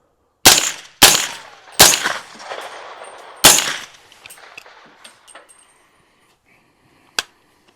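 A suppressed 300 Blackout rifle fires subsonic rounds, four sharp, loud cracks in an uneven rhythm, each with a short ringing tail, then metallic clinks and one last faint snap.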